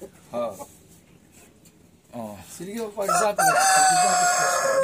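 Silkie chickens at a poultry farm, with a rooster crowing loudly and near over the final seconds, after short clucks and calls, while someone talks throughout.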